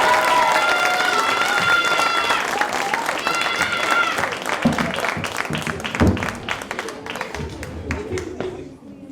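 Audience applause fills a theater before a stage show of Willy Wonka, dense and steady at first, then thinning into scattered claps with faint voices mixed in.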